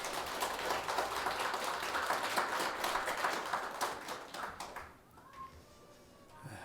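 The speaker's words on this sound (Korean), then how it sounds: "감사와 영광의 박수 올려드리겠습니다." A congregation applauds during a Sunday church worship service, a soft, steady patter of many hands that tapers off after a few seconds into quiet room tone.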